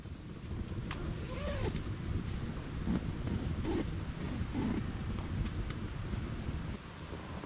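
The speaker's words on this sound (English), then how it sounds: "That wind was crazy last night, still pretty wild now." Strong wind buffeting around a hot tent at night, a continuous loud roaring rush with microphone wind noise and no talk.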